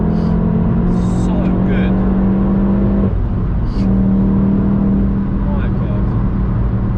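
A 370 bhp four-cylinder VW Golf GTI Clubsport S pulls hard uphill, its engine droning loud and steady from inside the cabin under excited talk, with a brief dip mid-run before the note climbs again.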